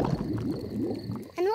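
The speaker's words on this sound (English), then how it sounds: "My tummy rumbling is one of the best sounds of nature." A cartoon father's stomach rumbles at a night-time campsite: a low, bubbling gurgle of growls runs for over a second, then a voice starts speaking.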